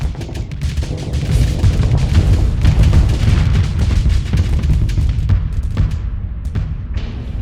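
Pulse lasers and light mortars firing in the Starsector space game, a dense barrage of booming thuds and sharp bursts that overlap continuously, loud and busy throughout with no talk.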